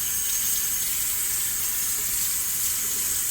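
Hot water pouring steadily from a tap to heat a towel, a continuous hiss of running water, fairly close, with no talking.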